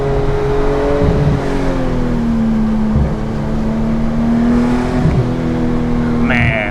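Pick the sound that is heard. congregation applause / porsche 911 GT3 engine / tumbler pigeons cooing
porsche 911 GT3 engine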